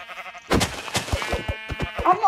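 A sheep bleats repeatedly in a video game set in a fossils and archaeology world, several loud nasal calls in quick succession, close and clear, with a voice talking alongside.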